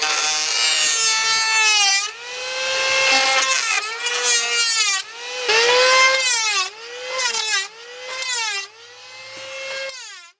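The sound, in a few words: old hand planer shaving wood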